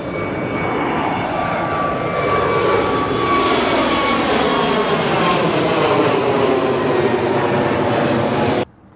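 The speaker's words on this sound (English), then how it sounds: "right on cue, another airplane taking off." A loud, continuous roar of a jet airplane taking off, sustained and steady before cutting off abruptly near the end.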